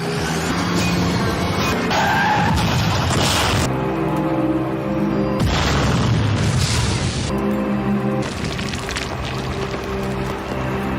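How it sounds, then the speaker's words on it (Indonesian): A car rammed from behind by a truck bursts into flames amid a chaotic action-film mix of skidding tires, engine roar, booms and blasts, loud and continuous with abrupt cuts. "Mobil pun kemudian meledak dalam kobaran api."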